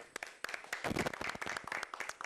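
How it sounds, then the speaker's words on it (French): Studio audience clapping to welcome a prophet guest onto a French-language talk show, a dense burst of applause with sharp individual claps, fairly close and steady throughout. "on va le recevoir en applaudissant, c'est bien"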